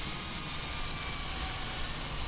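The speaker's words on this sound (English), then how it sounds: "We're going to start engine number 2 first." Boeing 777F jet engine spooling up at night in Microsoft Flight Simulator 2020, a continuous steady roar with a thin high whine slowly climbing in pitch.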